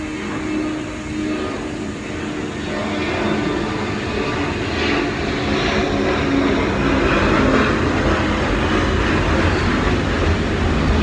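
Airplane passing overhead outdoors, a broad steady engine roar that swells gradually and stays loud, with no talk.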